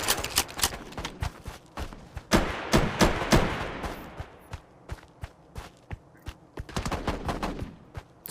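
Shotgun blasts in a video game fire in rapid bursts of loud, sharp booms, some clustered close together and others spaced out, with scattered clicks and clatter between the shots.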